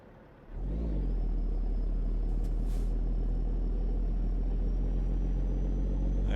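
A Peterbilt 389 truck in American Truck Simulator revs up and pulls away, its deep diesel engine rumble rising sharply then holding at a steady, loud drone with a faint high whine on top, no one talking.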